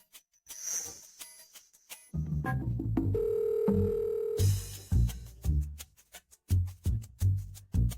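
A telephone call that fails to connect: quick keypad dial tones, then a sustained tone and a series of short repeated beeps, close and clear with no talk.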